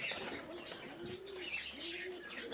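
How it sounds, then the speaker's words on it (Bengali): Giribaz pigeons coo softly nearby in a couple of low rolling calls, with faint chirps over a quiet background. "ফুলশিরা কালদমা নর, বেশ ভালো পায়রাটার, গেট আপটা খুব ভালো পায়রাটা"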